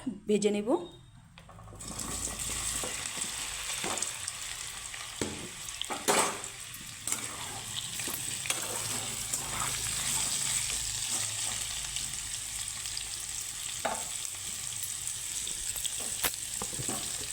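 Potato and gathi kochu (taro) sizzle steadily in hot oil in a wok, a continuous frying hiss with occasional utensil clinks, after a brief louder splash at the start.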